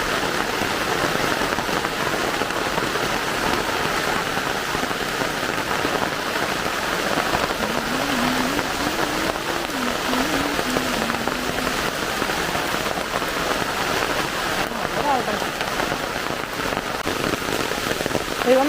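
Summer rain falls steadily outdoors by a home in Kerala, an even dense patter with no letup, close and moderately loud throughout.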